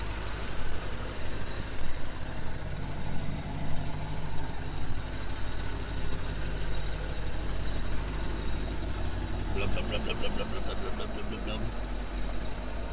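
A C4 Corvette engine runs steadily at a low idle throughout, a continuous mid-distance rumble with faint background voices and a brief higher-pitched rattle near the end.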